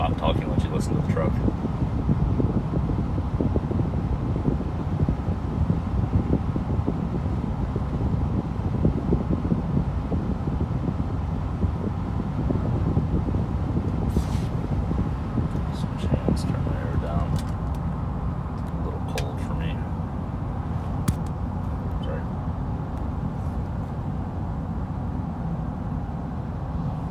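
Interior of a 2011 GMC Sierra 2500 Denali pickup truck on the road, a steady low engine and road rumble with wind and fan hiss, continuous and even throughout with occasional faint clicks.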